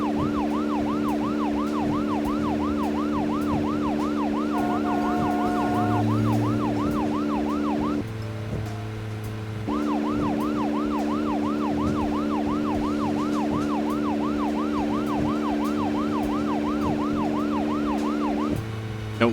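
A police car siren in the video game Deadly Premonition wails continuously in a fast, regular up-and-down cycle, loud and steady over engine hum, cutting out briefly midway before resuming and running on to the end.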